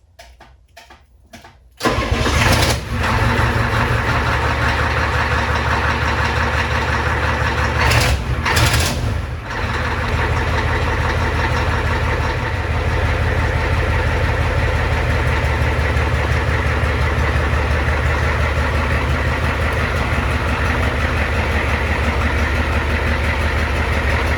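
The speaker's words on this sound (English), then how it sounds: "let's fire this thing up and go take it for a quick spin" A Ford F-250 diesel truck that had sat unused for years cranks briefly, then fires up and settles into a loud, close, steady diesel idle with a deep rumble and a couple of revs early on.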